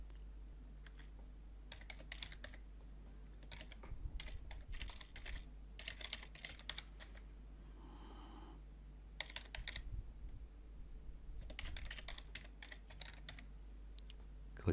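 Fingers tap out an email and password on a computer keyboard in quick bursts of close, crisp keystrokes separated by short pauses, with a faint steady hum underneath.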